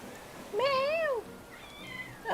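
A cat gives one clear, rising-and-falling meow close by, followed by a fainter second cry, in a quiet indoor room.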